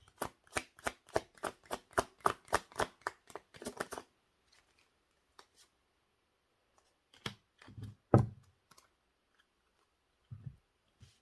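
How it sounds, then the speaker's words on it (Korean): Tarot cards being shuffled and drawn from a deck, a rapid close run of crisp riffling snaps for several seconds, then a few scattered soft card taps and slides in near silence. "추가 카드 잠시만 뽑을게요."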